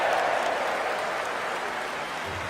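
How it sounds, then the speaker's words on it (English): A cricket crowd at a one-day international final between England and New Zealand applauds in a broad, continuous roar of clapping that slowly fades a little toward the end. "Applause from Stokes to the young man."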